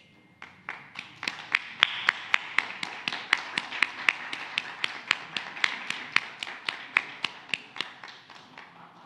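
A room of people stands and claps to welcome Ecuador's president, Lenín Moreno Garcés, at a formal ceremony; the sound is a steady run of sharp, evenly spaced claps, fairly close, with no talking over it.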